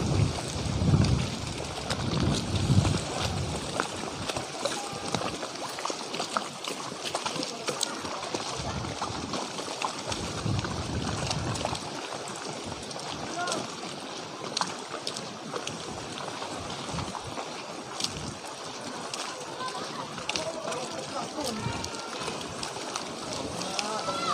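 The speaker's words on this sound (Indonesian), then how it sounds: "anginnya kencang kawan-kawan, dan gelombangnya juga besar nih" Strong gusting wind roars across floodwater during a flood in Kampung Kenanga, Tanjungpinang, with waves sloshing beneath. The steady, loud buffeting fills the whole stretch while a voice talks intermittently over it.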